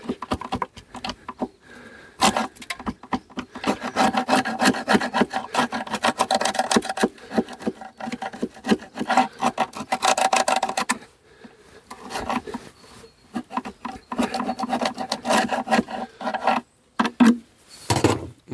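A hive tool scrapes propolis and old wax off the frame rests of a beehive. The rasping is close and busy, in bursts of scratching strokes with short pauses.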